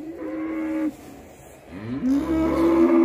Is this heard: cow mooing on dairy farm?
yes